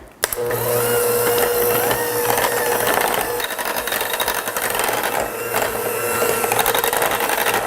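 An electric mixer whirs steadily as it blends pistachio paste and vanilla extract into a no-bake pistachio tiramisu cream, a loud continuous motor drone with a grinding, rattling edge that briefly dips in the middle.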